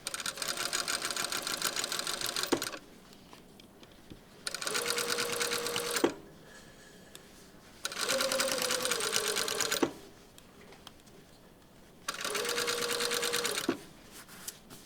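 Sewing machine stitching a shirt hem in four separate bursts of rapid, even stitching, each lasting about two seconds, with quiet pauses between them.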